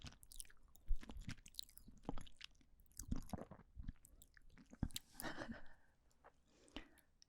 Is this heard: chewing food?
yes